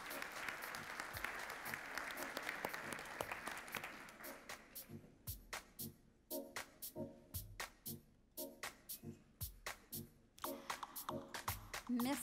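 Applause from the audience at an afternoon ceremony where safety medals are handed out, starting as a dense, steady roar of clapping and then thinning into separate bursts of claps with short gaps between them.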